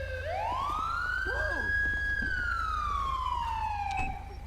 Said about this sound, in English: Is this my siren that's still on?